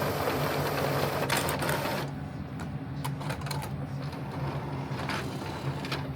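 An Epson 8550 printer with a faulty paper sensor draws in a sheet and quickly ejects it, a steady mechanical whir with clicks and feed rattles, close and continuous.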